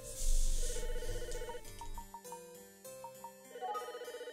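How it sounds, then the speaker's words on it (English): A chiptune-style telephone ring sounds in the Famicom Detective Club game, short repeated electronic trills over a soft musical background, fairly quiet. "The phone is ringing."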